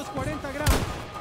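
A single sharp sniper rifle headshot in Battlefield 2042, short and punchy, set against a murky background of game sounds and faint voices.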